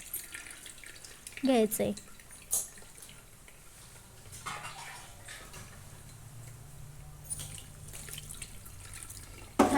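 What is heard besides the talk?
pouring cold water over boiled safflower greens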